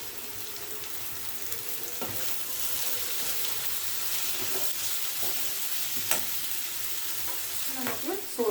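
Spring onion and coriander are stirred into frying cauliflower gobi manchurian: a continuous sizzle is broken by repeated spatula scrapes and clinks against the pan, growing busier toward the end.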